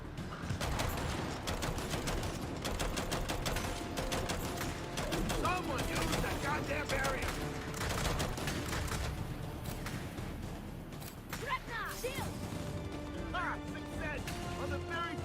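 Gunfire in Gears of War 5: rapid bursts of automatic shots and sharp impacts crackle continuously, layered with game action noise and a voice talking over the battle.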